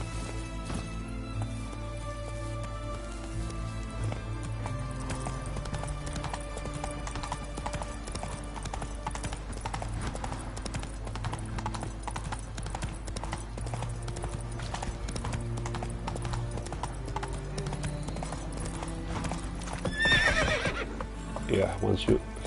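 Roach, Geralt's horse in The Witcher 3, gallops with steady clip-clop hoofbeats throughout and gives a whinny near the end, with game music and a voice talking over it.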